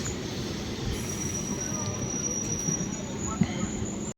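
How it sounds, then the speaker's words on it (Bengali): A train pulling into a station, with a steady low rumble of wheels and rail noise and a faint high squeal, heard from the platform with people talking over it. "চলো ট্রেন ঢুকুক,"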